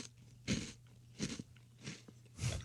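Crunchy breakfast cereal being chewed close to the microphone, four distinct crunching bites spaced roughly evenly apart over a quiet background.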